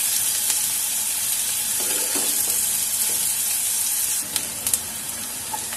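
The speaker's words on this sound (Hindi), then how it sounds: "अब हम इसमें प्याज ऐड करेंगे" Onions frying in a pan for raw papaya sabzi sizzle loudly and steadily, with a few light stirring knocks near the end.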